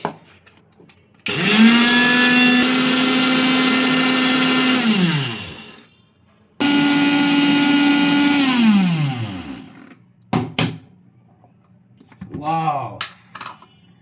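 Electric grinder powdering spices for a beef masala, running in two loud whirring bursts of several seconds each that wind down. Brief clicks and rattles of the jar follow.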